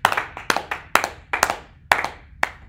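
A small audience at a capstone project presentation gives a few seconds of scattered applause, with distinct, fairly close hand claps in irregular clusters and no speech.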